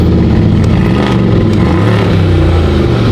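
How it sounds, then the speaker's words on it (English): A Corvette C8 engine revving hard on a cold start, a loud, close, sustained roar with rising and falling revs throughout and no voices over it. "A couple of revs, cold start, not even warm."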